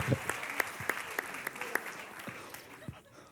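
Quiet, scattered clapping from an audience at a talk or gathering: a handful of separate claps rather than a full ovation, growing sparser as it fades.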